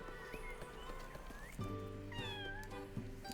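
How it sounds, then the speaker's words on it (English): A cat meows repeatedly in the background of the video game Little Goody Two Shoes, forming short rising and falling cries over a busy game soundscape, with one louder meow about halfway through. "Ignore the cat meowing in the background of the game."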